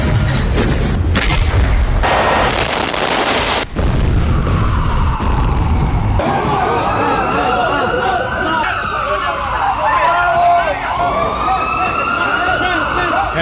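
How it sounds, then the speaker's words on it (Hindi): War footage from Gaza with heavy booms and blasts mixed with wailing sirens, loud and chaotic, the explosions concentrated early and rising sirens sweeping through the later part. "गाजा में व्हाइट फास्फोरस बम दागा जा रहा है।"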